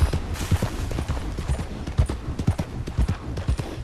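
Horse hooves in the video game Red Dead Redemption 2 clip-clop in a steady walking rhythm on hard ground, fairly close, with no voices.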